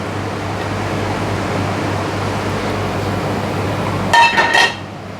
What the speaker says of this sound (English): While it's still hot, pour it over your potatoes.